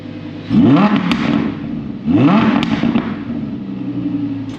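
An Audi R8 V10 Plus engine with a Valvetronic exhaust revs up twice in quick succession to about 5,000 RPM, each rev rising sharply then settling back to a throaty idle, loud and close.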